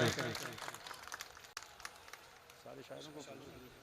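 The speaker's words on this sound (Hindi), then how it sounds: "आप जोरदार तालियों से उनकी हौसला अफजाई करें" Mushaira audience applauding in a faint, continuous patter of many hands clapping at a distance, with no break through the clip.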